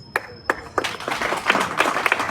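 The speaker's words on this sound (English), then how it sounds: "But before you clap" Audience at a political rally in Uganda breaking into clapping, starting with a few sharp separate claps that swell into steady, dense applause from a crowd.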